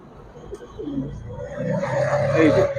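Pigeons coo in a shop, low murmuring calls nearby that grow fuller over a couple of seconds amid muffled background noise.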